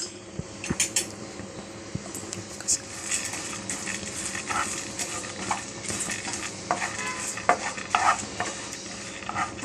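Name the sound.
pumpkin seeds and magaj seeds roasting in ghee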